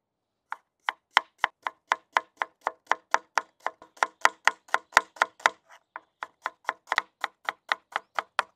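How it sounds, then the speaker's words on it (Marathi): Onions being chopped with a knife for a village-style pumpkin curry. Sharp, evenly spaced knife strikes sound close up and alone, about three per second, with a brief irregular stretch midway. "पण आता भाजीसाठी सर्वप्रथम इथे कांदे कट करून घेऊ।"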